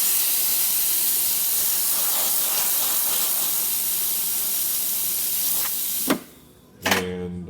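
The steam wand on a La Spaziale Lucca espresso machine, just serviced after weak steam and a cleaned tip, hisses strongly and steadily for about six seconds, then cuts off with a short sputter and a brief burst.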